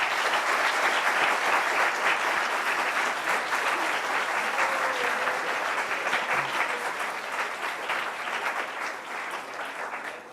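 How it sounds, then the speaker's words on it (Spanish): Audience applause for a teacher after a talk at a preparatory school, a dense, steady round of clapping lasting throughout and fading slightly toward the end. "Un aplauso para el maestro, por favor."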